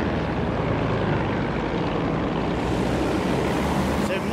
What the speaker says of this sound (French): Ce maudit dirigeable va bientôt survoler Londres.